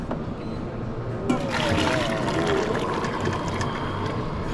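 Liquid poured steadily into a vessel at a food trade show, a close gurgling trickle that starts abruptly after a quiet moment and continues without break over a low background murmur.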